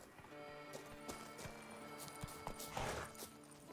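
Geralt's horse Roach clip-clops along in Witcher 3, steady hoofbeats with occasional heavier thuds and clatter over a quiet ambient game backdrop, no voices.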